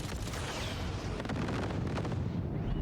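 Cannon fire in the Cyberpunk 2077 video game, heavy booming blasts rolling one after another with dense rumbling and crackling debris, loud and continuous with no talking.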